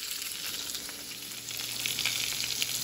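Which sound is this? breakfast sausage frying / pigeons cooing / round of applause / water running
breakfast sausage frying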